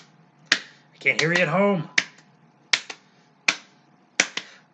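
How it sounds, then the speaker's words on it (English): Sharp hand claps ring out, several of them in quick pairs, spaced across a few seconds. A voice speaks briefly between the early claps. "Now double claps."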